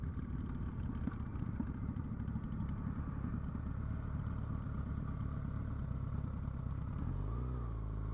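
A motorcycle rides steadily over gravel on a cold day, its engine droning loud and continuous close up, with the pitch dropping and settling near the end as it slows.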